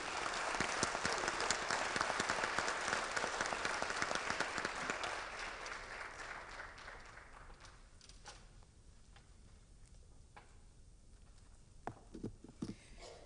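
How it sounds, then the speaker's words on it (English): An audience claps loudly in a dense wave of applause that gradually thins out, leaving scattered claps and quiet room noise at the end. "Could you give her a round of applause?"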